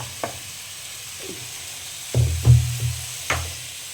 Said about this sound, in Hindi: टमाटर में ही सारे मसाले को मिक्स कर लेंगे